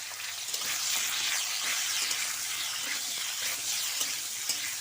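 Cut potatoes sizzling in hot oil in a pan for spicy fried potatoes, a steady crackling fry that stays close and even throughout, with no voices.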